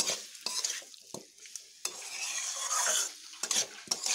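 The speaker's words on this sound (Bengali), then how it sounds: "আলু, কাঁঠালের বীজ ও মশলাগুলোকে বেশ ভালোভাবে একটুক্ষণ ভেজে নেব" Potatoes, jackfruit seeds and spices frying in a pan, with a soft continuous sizzle broken by sharp scrapes and clinks of a spatula stirring against the metal, close and fairly quiet.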